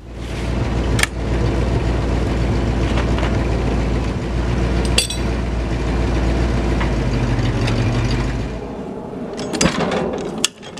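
A sawmill engine runs steadily at idle while a large white oak log is quartersawn, a loud continuous low rumble with a few sharp knocks, dropping away near the end.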